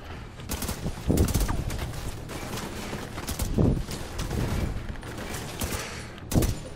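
Repeated gunfire bursts in The Division 2, a third-person shooter set at the White House, with sharp broadband cracks at about one, three and a half and six seconds over a steady rumble of distant shooting.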